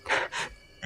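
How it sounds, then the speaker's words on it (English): Slow, heavy breathing heard through an elevator's overhead speaker, two drawn-out breaths followed by the start of a third, close and airy with no other sound. "I thought I heard breathing coming from the speaker above me. Slow, heavy,"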